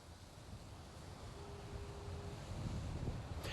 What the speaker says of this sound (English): We're seeing some heavy winds whipping up something nasty here on the North Coast.